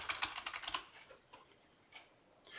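Quick bursts of computer keyboard typing while entering a guest username, a dense run of close clicks at first, then a few sparse keystrokes after a pause.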